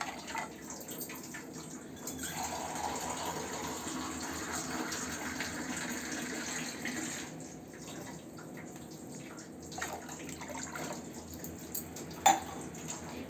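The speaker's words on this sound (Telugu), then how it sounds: "ఈ పావు గ్లాస్తో 2 గ్లాసులు వాటర్ తీసుకుంటున్నానండి." Water pours steadily into a pot for barley drink, a continuous gushing flow lasting most of the clip, close and moderately loud, with a brief clink near the end and no talking.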